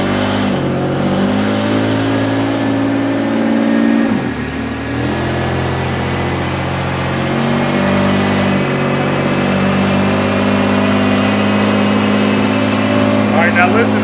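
A nitrous-fed Pontiac Firebird engine on a dynamometer, loud and close, revving up and holding a steady high drone, with a short dip midway before it climbs and sustains again.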